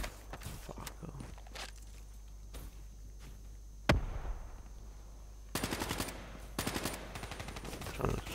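Bursts of automatic gunfire from Call of Duty: Black Ops during a Search and Destroy multiplayer match, with a loud single shot near the middle and rapid rattling volleys toward the end over quiet game ambience.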